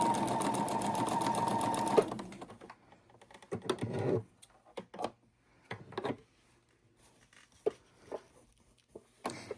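A sewing machine stitches a quilt block made from fat quarters, running in one steady, close burst for about two seconds, followed by scattered short clicks and taps of handling.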